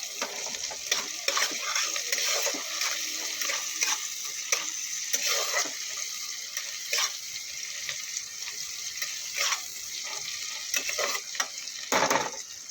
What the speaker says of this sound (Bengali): পেঁয়াজটাকে আগে লাল লাল করে ভেজে নিচ্ছি